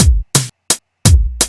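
A basic rock drum beat played alone, with four loud, separate hits: heavy kick-and-snare strikes alternate with sharper snare cracks in a steady groove.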